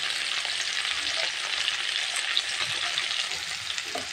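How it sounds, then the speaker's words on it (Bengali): Cauliflower sizzles and fries in a hot pan, a dense steady crackle with occasional stirring scrapes and no voices. "ফুলকপিটা আমার ভাজা হচ্ছে, একটু ভেজে তারপর সিমটাকে ভেজে নেব"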